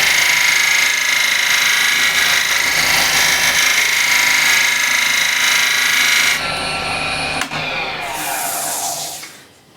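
A hand scraper shaves across a wood surface held on its side, a steady bright rasping for several seconds that shifts tone partway through and then fades out.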